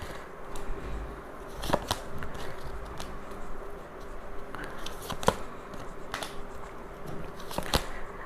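Tarot cards being shuffled by hand, continuous soft riffling and crisp snaps close up, with sharper flicks recurring every second or so and no talking.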